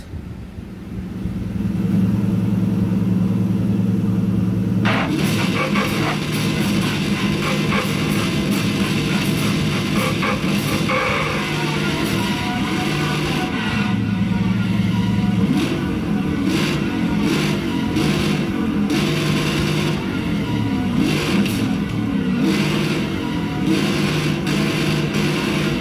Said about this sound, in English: The exhaust is pretty loud. It sounds pretty good.